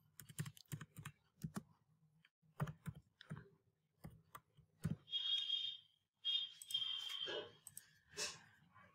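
Computer keyboard typed on while using ArcGIS mapping software: quick bursts of close, crisp keystroke clicks, then a steady electronic tone near the end, with no talking.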